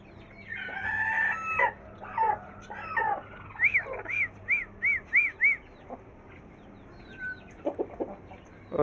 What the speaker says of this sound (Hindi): तो ये मुर्गी ये बोल रही है इसकी आवाज़ चेंज हो गई